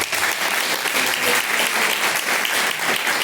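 A church congregation at a live worship service claps together in steady, dense applause, loud and continuous throughout.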